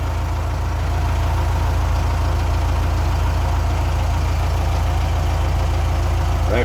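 Steady low engine drone from a Kubota M9960D tractor idling in forward gear, with transmission noise blended into a constant, close mechanical hum that holds evenly throughout.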